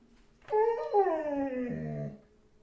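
A dog lets out one drawn-out whining howl, close and fairly loud, its pitch sliding downward over about a second and a half before it stops.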